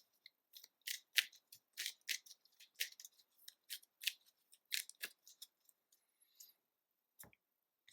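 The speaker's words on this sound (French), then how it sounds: "je brasse mon deck" A deck of cards for the Arkham Horror card game is shuffled by hand, a quick series of crisp riffling snaps and flicks, close and quiet, in separate bursts with short pauses and no voices.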